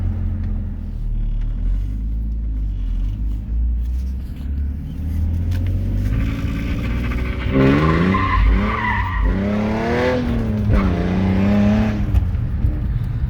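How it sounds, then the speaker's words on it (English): A BMW E46 engine rumbles and revs up, then the tires squeal loudly in wavering, drawn-out screeches as the car spins a quick U-turn donut, close by. "did a little rip there, just a little U-turn quick donut"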